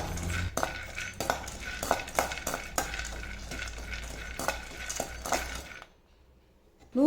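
Cashew nuts are dry-roasted in a pan, with a utensil stirring them in repeated close scrapes and light clinks over a soft sizzle, fading toward the end before a brief louder sound cuts in.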